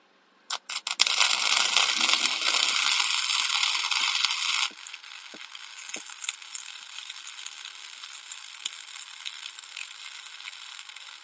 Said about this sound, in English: I'm gonna try to do a tack weld